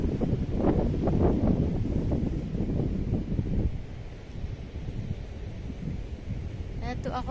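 Gusty wind buffeting the microphone by a rocky shore, rumbling and uneven, with a faint voice underneath and some rustling toward the end.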